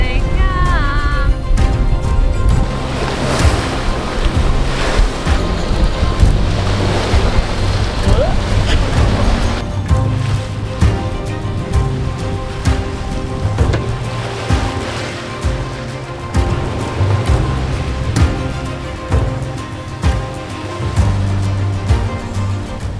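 A sailboat making about four knots at sea just after sunset, with continuous rushing water, wave wash and wind buffeting the microphone, plus scattered creaks and knocks aboard.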